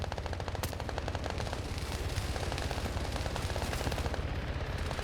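Anti-tank rounds and gunfire in a video game battle: a dense, loud, continuous stream of rapid shots and booming reports that runs without a break from start to end, with no talk.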